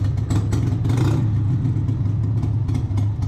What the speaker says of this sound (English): It's got a little miss, very small miss on it